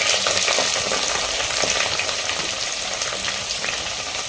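Dried and green chillies with onions fry over high flame in a clay pot, a loud, dense, unbroken sizzle with crackles throughout.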